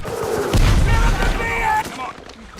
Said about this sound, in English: We never see a mortar get shot behind the lines and think you're back far enough or you're out of range.